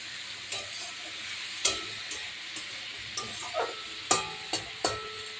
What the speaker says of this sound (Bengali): এবার এটাকে নেড়ে চেড়ে, চিচিঙ্গা কিন্তু জল বেরোয়, আমি এটাকে ঢেকে দেবো।